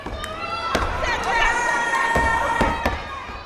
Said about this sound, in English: this is a step show. It's got clapping, stomping,